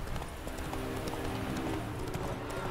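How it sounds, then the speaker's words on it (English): Horse hooves clip-clop steadily in The Witcher 3, a continuous trotting rhythm at moderate level over game ambience. "Oh, okay, Roach. We gotta slow down now"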